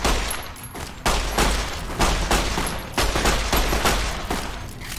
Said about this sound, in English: You're shooting at me.